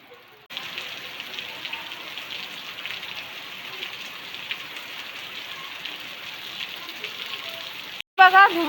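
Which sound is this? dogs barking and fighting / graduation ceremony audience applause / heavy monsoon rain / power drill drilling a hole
heavy monsoon rain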